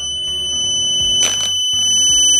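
A Snap Circuits electronic toy kit sounds its alarm, a loud, steady electronic tone that holds throughout, with a brief burst of noise partway through and no talking.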